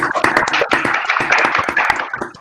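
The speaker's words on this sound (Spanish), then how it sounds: "lo estamos despidiendo nuevamente con un aplauso" Applause from a small audience, a few people clapping with distinct, uneven individual claps close by, steady for a couple of seconds after a talk on solar energy for thermal processes in Puna mining.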